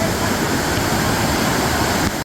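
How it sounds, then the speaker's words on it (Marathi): Water at Bhushi Dam in Lonavala pours in a strong, powerful flow, a dense unbroken roar close to the microphone that holds steady for a couple of seconds before cutting off. "पाण्याचा प्रवाह खूप जास्त आहे"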